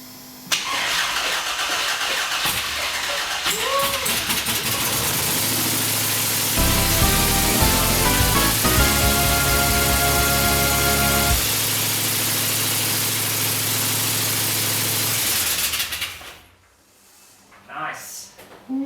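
An LS1 V8 swapped into a VH Holden cranks and fires, roaring up to a loud rev before settling into a rough, rumbling idle; people cheer and talk over it, then the engine cuts and it falls quiet.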